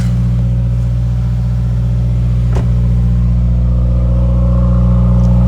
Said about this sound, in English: Exhaust is sounding good this morning